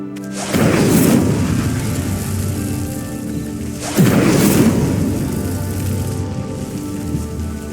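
Two bursts of the Incendio fire spell in the Hogwarts Legacy video game light pyres, each a loud whooshing roar of flame that flares up suddenly and then settles into a steady crackling rush.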